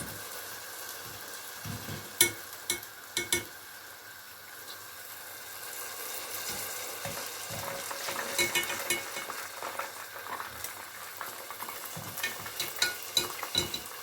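Fried kadayif lifted out of hot oil and dropped into cooled syrup, with a steady bubbling sizzle and scattered clinks and scrapes of utensils against the pan throughout.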